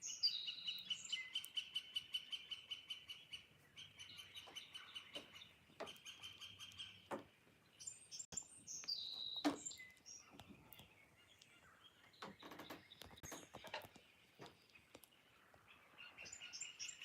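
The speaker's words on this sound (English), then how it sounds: "Can you hear the birds?" Birds chirp and trill repeatedly outdoors, rapid high calls from several birds overlapping at moderate distance, with faint clicks in between.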